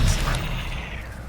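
A spell cast in the video game Hogwarts Legacy, a short whooshing magical burst with a low booming thump at the start that fades into a steady rumble, with no talk.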